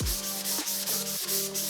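Metal being sanded by hand in a shop to rough up the surface for paint, a steady continuous rubbing scrape with rhythmic strokes over a constant tonal machine hum.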